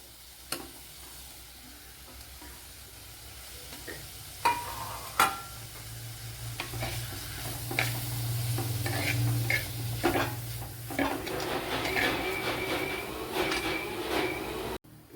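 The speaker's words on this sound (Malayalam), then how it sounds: "നമ്മുടെ സവാളയും തേങ്ങയും ഒക്കെ ഇവിടെ ഫ്രൈ ആയിട്ടുണ്ട്" Onion and coconut fry in a pan for a sardine fish curry, a steady low sizzle running throughout with intermittent scraping and clinking strokes of a spoon stirring.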